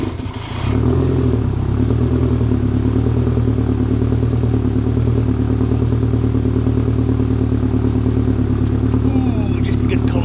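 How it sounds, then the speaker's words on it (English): A Toyota MR2 engine turns over and catches on a cold start, then settles into a steady, loud idle with a mechanical clatter. The engine runs on alone without pause, close to the listener. "let's go ahead and fire up the MR2, let it warm up a little bit"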